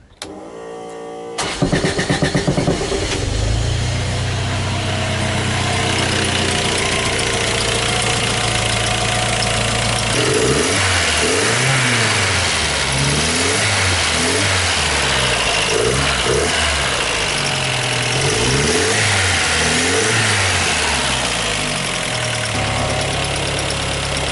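A Toyota Hilux engine cranks and starts, then runs loudly and steadily, its idle rising and falling as it is revved several times.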